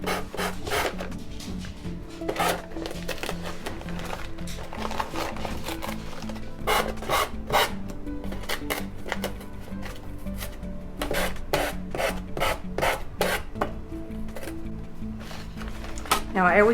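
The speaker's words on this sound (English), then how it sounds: "we're just going to take our little sanding sponge here and sand off the edges" A sanding sponge rubs briskly along the edges of a decoupaged paper tag, giving repeated raspy scraping strokes in an irregular rhythm, close and fairly loud.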